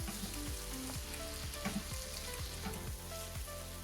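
Garlic frying in a pan while being stirred around, a steady close sizzle with rhythmic scraping strokes of a utensil repeating roughly every half second, no talk.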